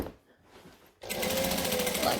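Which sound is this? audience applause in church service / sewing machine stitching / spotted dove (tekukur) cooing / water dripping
sewing machine stitching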